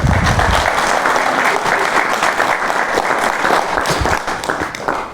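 An audience at a live conversation event applauds, dense sustained clapping that holds steady for about five seconds before starting to thin out.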